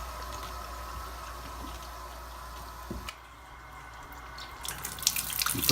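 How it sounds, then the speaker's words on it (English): Tap water starts running through a home water filter unit with carbon cartridges, a steady low rush and trickle at close range that briefly dips, then swells into brighter splashing toward the end. "So we're gonna turn the water on."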